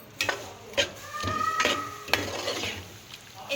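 A tomato and yogurt paste is stirred into aloo keema in a pan, giving soft scraping and clinking strokes of a utensil against the metal over a faint sizzle, close and fairly quiet.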